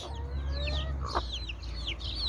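A hen clucks softly several times, with chirps and faint bird calls around it over a steady low hum.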